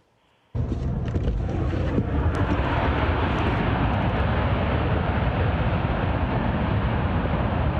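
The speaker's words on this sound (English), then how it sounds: "It sounds like an engine, a plane engine," A loud, steady airplane engine roar starts abruptly after a brief quiet moment and holds constant, close and broadband, with no voices.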